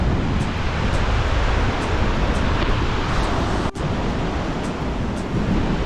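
A mountain waterfall on the Gaumukh trek, heard as a loud, dense, unbroken roar of rushing water close by, steady for the whole stretch with no voices.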